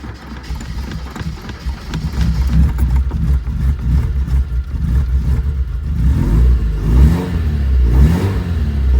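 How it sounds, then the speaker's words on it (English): A Porsche 924 engine with side draft carburetors revs to warm up, a loud, close, continuous rumble that swells and eases repeatedly over several seconds, with no talking. "with your typical side draft carburetors, you got to get a little bit of a rev up to give it a second to warm up"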